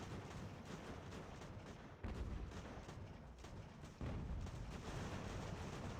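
Cannon fire rumbles in the video game Ultimate General: American Revolution, a continuous low battlefield roar broken by two abrupt heavy booms about two seconds apart, each lifting the din to a louder level.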